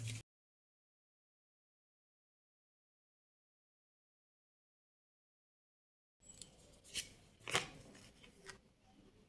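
Soft paper rustle and light flicking as a card is drawn from a Bhagavad Gita wisdom card deck, faint and close, arriving after a long stretch of silence.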